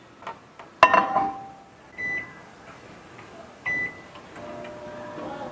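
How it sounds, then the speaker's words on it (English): A microwave oven heating a bowl of protein oatmeal in a home kitchen, with a sharp clunk, then several short electronic beeps over a low steady hum. "let's get that into the microwave"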